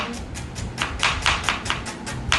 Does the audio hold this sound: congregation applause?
no